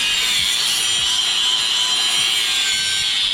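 An angle grinder cuts metal while a car intake is being fitted, giving a loud, continuous high-pitched whine that holds steady for the whole stretch with no talk over it.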